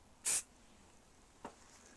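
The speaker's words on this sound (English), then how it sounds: "Now I'll give it a quick spray and you see what happens." A single quick burst of lacquer from a spray can onto a silver-painted Tamiya 1/48 A-10A Thunderbolt II model kit, a short sharp hiss followed by a faint click in a quiet room.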